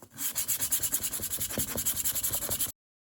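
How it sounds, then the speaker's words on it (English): A drum beater head rubbed with 400 grit sandpaper in quick, even back-and-forth strokes, close and steady, about a dozen rhythmic passes before stopping abruptly. "Next grit is 400, so I'm going to do the top and the sides with this."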